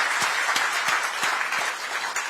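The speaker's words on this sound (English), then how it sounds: "carry it with a large round of applause" A large audience breaks into a round of applause after a vote of thanks for an address at a financial regulator's public session, steady dense clapping filling the room with a few sharper claps standing out.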